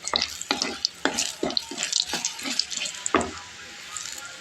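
Tempering for a dish of banana stem cooked with lentils, with a spoon stirring through the pan in a run of close, crisp scrapes and clicks over a soft, steady sizzle.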